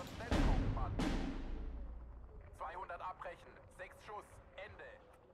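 Artillery firing corrected shots in the strategy game Steel Division 2: two heavy booming blasts with long rumbling tails in quick succession, followed by someone talking over the fading rumble.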